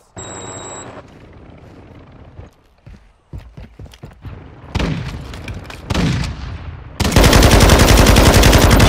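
Semtex grenade thrown and exploding in Call of Duty Modern Warfare: loud, dense game audio with rapid gunfire bursts, then heavy, sustained blasts that end in a roaring, broadband explosion.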